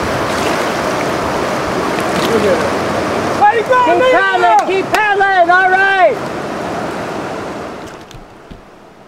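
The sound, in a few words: river rapids with large waves during canoeing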